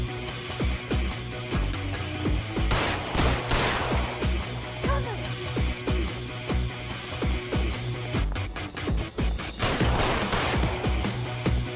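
Gunfire in the video game L.A. Noire: a few sharp shot bursts ring out, clustered early and again near the end, over a steady game score and background ambience.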